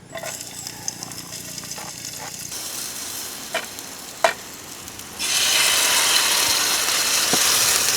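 A halved onion put into hot cooking oil at an off-grid camp, with quiet crackling and a few clanks before a loud, steady sizzle surges up and carries on to the end.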